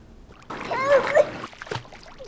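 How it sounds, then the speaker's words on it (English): Loud, messy splashing in water mixed with a voice and cries, a brief thrashing burst that fades within a couple of seconds. "Some people think drowning sounds like this."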